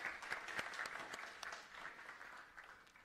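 Faint applause from a tech conference audience, scattered clapping that thins out and fades toward the end, heard quietly and at a distance.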